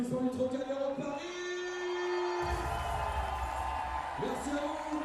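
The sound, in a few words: crowd applause at the Trocadéro, Paris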